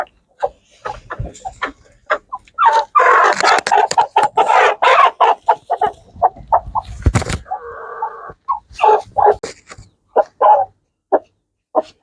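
A hen recovering after medicine for a wheezing respiratory illness clucks actively nearby, giving a string of sharp, irregular clucks and a louder agitated stretch in the middle.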